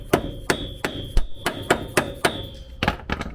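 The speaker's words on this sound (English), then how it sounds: "Take a hammer" A hammer tapping a cap onto a wheel hub during a brake upgrade on a Nissan S13, about ten sharp metallic knocks in a quick uneven rhythm, close and loud with no talking.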